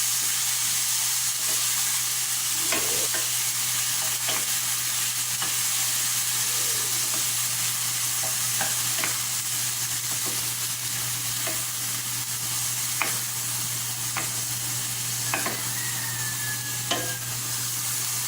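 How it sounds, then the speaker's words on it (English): Food sautés in a pan for lobster fried rice, a steady loud sizzle with occasional stirring scrapes and clinks throughout, and no talking. "Let it saute for a few minutes."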